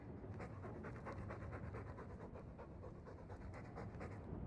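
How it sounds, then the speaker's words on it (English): A dog pants rapidly and rhythmically in the video game Dragon Age II, quick breathy huffs repeating steadily, fairly close and alone. "All that noisy dog breath,"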